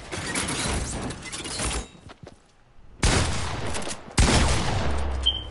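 Gunfire in a video game comes in sustained bursts of rapid shots, loud and close, broken by a short lull before two more heavy volleys, with no talking.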